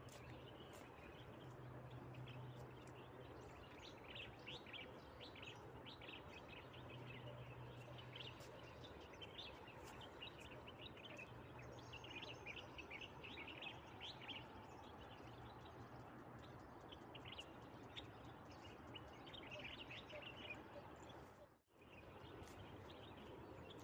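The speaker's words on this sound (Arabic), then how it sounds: "سمعوا لي صوت العصافير" Birds chirp faintly and steadily in the open air on a cool Marrakech morning, a soft continuous twittering over low background hum, with a brief dropout near the end.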